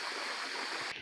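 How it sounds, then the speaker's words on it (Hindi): Mountain waterfall and stream pouring down from above, a dense, steady rushing hiss of flowing water, close and loud, cutting off abruptly at the very end. "ये झरना है यहाँ से।"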